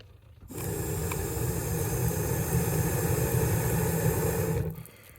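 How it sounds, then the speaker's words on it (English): Steady breathy rush of air blown through a blowing device onto the bottom coals of a survival fire, a sustained whoosh lasting about four seconds before cutting off. "You're gonna get your blowing apparatus, your blowing device, and just blow at the bottom coals."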